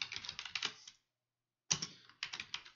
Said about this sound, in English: And then you type in PyInstaller